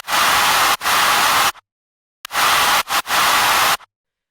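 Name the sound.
white noise effect in a rock future bass track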